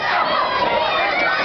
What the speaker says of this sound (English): Kimba asking for the cheers of the crowd